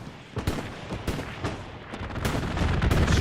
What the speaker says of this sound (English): Strafing run onto the opposite side.